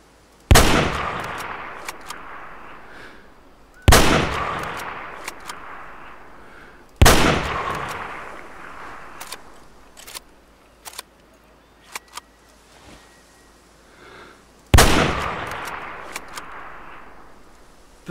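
Four loud Remington rifle shots in the hunting game Way of the Hunter, each a sharp blast followed by a long rolling echo, spaced a few seconds apart with faint clicks between them.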